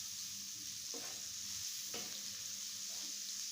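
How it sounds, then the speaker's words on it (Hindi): Finely chopped large onion frying in oil until light brown, giving a steady soft sizzle throughout with a couple of faint stirring scrapes, no voices. "उसी ऑयल में मैंने एक बड़े साइज़ का प्याज बारीक काट के शामिल किया। इसको मैं लाइट ब्राउन करूँगी"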